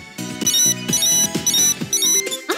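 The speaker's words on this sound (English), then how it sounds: "Oh, my Endgear is ringing." Handheld phone ringtone from the video game Hyperdimension Neptunia Rebirth 2, a loud, bright electronic melody repeating in quick rhythmic bursts, close and alone without speech.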